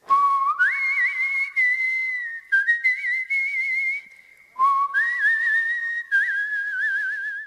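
A person whistles a melodic tune in clear, loud, sustained notes with pitch slides between phrases, pausing briefly twice before resuming, close up and alone without talking.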